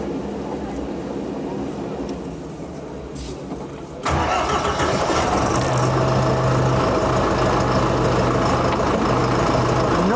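An agricultural machine's engine cranks over and catches abruptly partway through, then settles into a loud, steady mid-pitched idle with a faint tonal hum; preceding it is a quieter background murmur.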